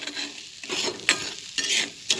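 Egg bhurji, scrambled egg, sizzles in a frying pan as a spatula stirs it, with several quick scraping strokes in an uneven rhythm over a close, continuous fry hiss; no one speaks.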